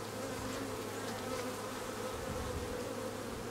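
Dense, steady buzzing of many bees around a rescued hive with its queen, a close continuous drone that stays even throughout with no voices.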